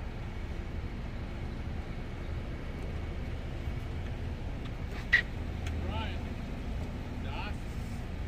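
A Ford Fusion Hybrid engine idles after a jump start, a low steady hum running throughout with a faint click partway through, while people talk nearby.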